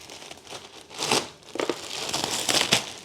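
Homemade spray booth fan filter material being cut, giving a few close, dry crinkling and crunching bursts with brief pauses between them.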